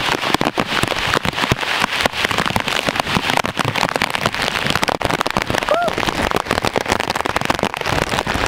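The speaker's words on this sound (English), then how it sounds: "rain bands are coming from the Atlantic Ocean into our area, which is giving us all this heavy rain and all the high winds" Tropical Storm Fay lashes Georgia with heavy rain and high winds, a dense, loud, continuous roar of pounding drops and gusting air with crackling impacts close to the microphone.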